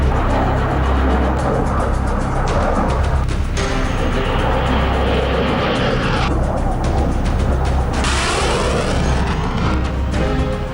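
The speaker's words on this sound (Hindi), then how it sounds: "लेह एयरबेस पर फाइटर जेट्स की आवाज थमी" MiG-29 fighter jets flying over Leh airbase, a loud continuous roar with surging waves of jet noise that swell and fade as aircraft pass overhead, filling the whole stretch without pause.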